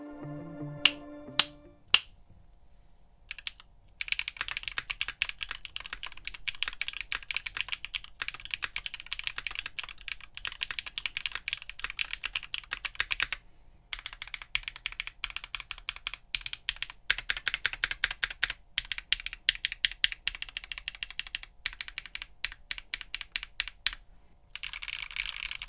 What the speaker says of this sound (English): Take a listen to these switches in today's build, the monokei and singa neko.